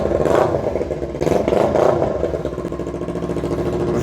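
Straight-piped Kawasaki Ninja 300 motorcycle idling, a loud, raspy, rapidly pulsing exhaust burble with uneven throttle swells, close and alone throughout.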